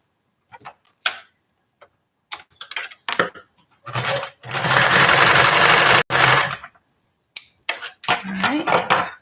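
Sewing machine stitching a small standing bag: clicks, taps and handling noises, then a steady whirring run of stitching lasting about two seconds, with more clicks and shorter bursts afterward, close by.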